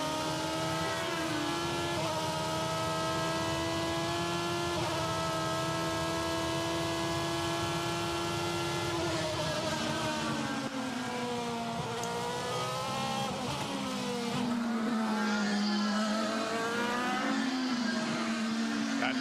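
A 2009 IndyCar race car engine at full throttle at Mid-Ohio, a loud sustained roar that climbs steadily in pitch through the gears, with brief dips at the shifts, close and continuous with no talk.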